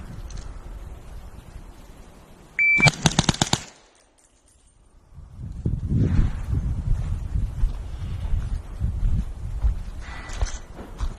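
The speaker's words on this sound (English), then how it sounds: "using a suppressed 300 blackout pistol, Omega 9K, aim .21 micro. Gonna try and shoot it in under a second." Suppressed 300 Blackout pistol with an Omega 9K suppressor fired in a rapid string of about six shots under a second, sharp close cracks in a tight burst, followed by silence and then rumbling wind noise outdoors.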